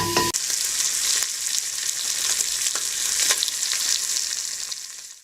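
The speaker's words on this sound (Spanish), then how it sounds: "Esa grasa va a ser con lo que vamos a iniciar la fritanga." Fat and bacon fry in a pan as the base for a country stew with sheep meat, giving a loud, steady crackling sizzle broken by occasional scrapes of stirring.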